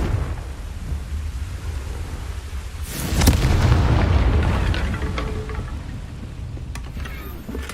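In Hogwarts Legacy, a Confringo fire spell erupts with a sudden deep blast that swells into a rumbling roar and slowly fades beneath a steady ambient wash.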